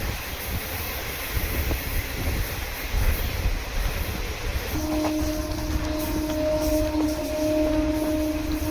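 Kanyakumari Superfast Express from Chennai Egmore running near Ariyalur, a steady rumbling roar with a sustained horn tone joining partway through and continuing to the end.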